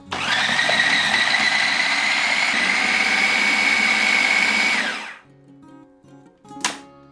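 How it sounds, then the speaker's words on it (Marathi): A blender whirs loudly and steadily for about five seconds mixing salted butter, flour and sugar, then spins down and stops, followed by a short clatter and a brief whine. "आता आपण हे ब्लेंड करूया सगळं"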